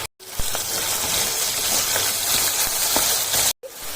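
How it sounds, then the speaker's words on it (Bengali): Blended tomato with coriander goes into hot oil and gives a loud, steady sizzling hiss up close for several seconds. The sound is briefly cut at the start and the end. "তারপরে ওই গরম তেলটার মধ্যে দিচ্ছি আগে থেকে মিক্সিতে ব্লেন্ড করে রাখা টমেটো"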